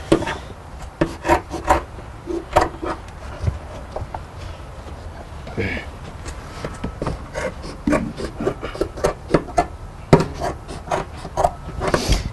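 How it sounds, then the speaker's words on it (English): A blade hacks and saws through thick vehicle floor insulation in a Tahoe/Yukon to clear the third-row seat brackets, giving close, loud, irregular rasping and rubbing strokes that repeat steadily throughout. "There's really no great way to cut this insulation."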